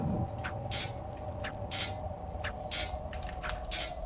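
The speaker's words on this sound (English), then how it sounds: "the noise there, sort of magical conjured up clouds make, kind of remind me of a vacuum cleaner" Magical conjured clouds in Tomb Raider II give off a steady vacuum-cleaner-like hum, with repeated soft airy whooshes pulsing about once a second over it.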